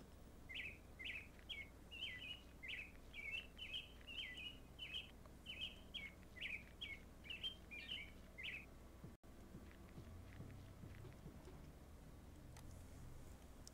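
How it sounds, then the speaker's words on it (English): Birds sing at sunrise in the video game My Boyfriend - Summer of My Life: a rapid run of bright, repeated chirps for about nine seconds, fairly close, then quiet ambience for the rest. "we get to listen to the birds at sunrise all day."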